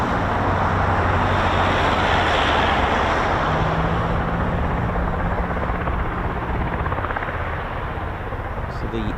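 A Chinook helicopter passes overhead with a loud, steady rotor roar and deep engine drone that fills the whole stretch, while someone talks over it.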